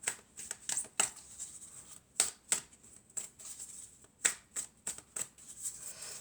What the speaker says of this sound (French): on va prendre quelques cartes de mon oracle